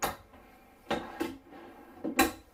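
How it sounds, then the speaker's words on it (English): Soft-close drawers and cabinet doors in the bathroom of a Grand Design Solitude 370DV RV, giving a few soft wooden thumps and clicks spaced through a quiet moment, fairly close. "All this soft close stuff."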